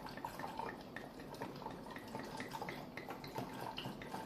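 Mead trickles through a funnel into a tube with a faint, continuous splashing and gurgling, soft and close.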